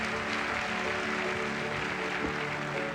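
Large arena crowd at the Westminster Kennel Club Dog Show cheering and applauding in a steady, dense roar that fills the whole stretch, with no clear breaks.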